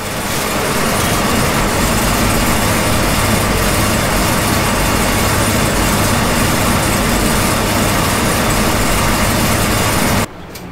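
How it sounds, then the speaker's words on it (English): A car engine idling with a Holley EFI idle air control motor opened up, a loud, steady, rough low rumble that holds constant for about ten seconds before cutting off abruptly. "the IAC is opened up farther, and we're still maintaining the proper idle speed"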